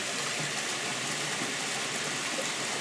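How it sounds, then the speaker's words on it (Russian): A small mountain waterfall near Lake Panagia in Crimea pours in a soft, even rush, heard fairly close as a constant hiss with nothing else over it. "А вот он, этот водопадик."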